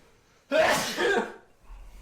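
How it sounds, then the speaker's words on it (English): A single close, forceful sneeze bursts out abruptly and then trails off into quiet. "I'm gonna sneeze"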